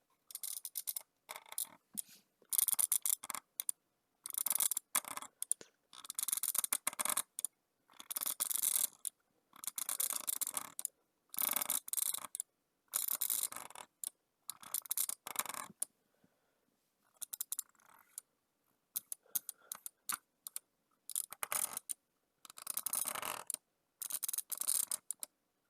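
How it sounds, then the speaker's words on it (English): A Logitech G502 mouse button is drag clicked in bursts of very rapid, crisp clicks, with short pauses between them. The clicking is close and faint, with no talk. "So yeah, that's what drag clicking sounds like."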